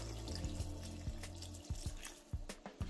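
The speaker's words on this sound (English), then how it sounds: "Next, what we are going to do is add a cup of water." A cup of water is poured into a mutton karahi pot, a steady close splashing stream that breaks into scattered drips and trickles near the end.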